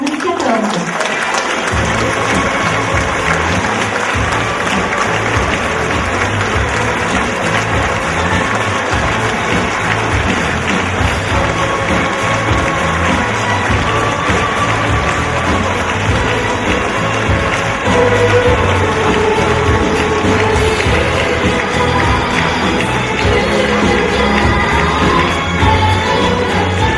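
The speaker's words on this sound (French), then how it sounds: "Merci d'applaudir Chloé DR, Miss Guadeloupe" Steady applause from a large audience at a Miss Orléanais 2014 beauty pageant fills the whole stretch, with murmurs and scattered voices mixed in and a slight swell toward the end.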